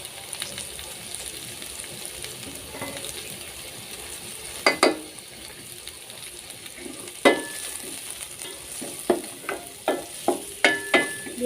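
Vegetables sizzle in a pan for fried rice over a steady frying hiss while a spoon stirs, scraping and clinking against the pan in irregular sharp knocks that grow more frequent toward the end.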